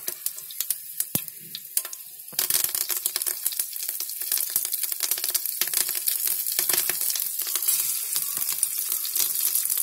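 Three green chillies sizzle in hot oil with mustard seeds and sesame over a low flame, a few scattered pops at first, then a dense, steady crackle from a couple of seconds on, with no talking.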